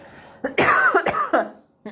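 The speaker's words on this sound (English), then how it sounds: "I have to cough." A person nearby coughs several times in quick succession, harsh and throaty, then falls quiet.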